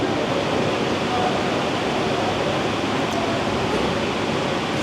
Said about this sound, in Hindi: पंखे की आवाज़ कम कर दीजिए